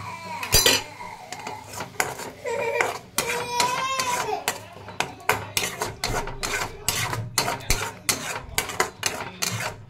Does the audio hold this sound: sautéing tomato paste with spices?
yes